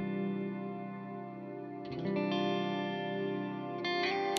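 Sustained electric guitar chords through a pedalboard, including a Chase Bliss Dark World reverb, shimmering with chorus and washy reverb, with new chords layered in over a lingering, swelling tail.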